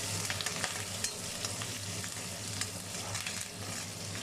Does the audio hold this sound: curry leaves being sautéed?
yes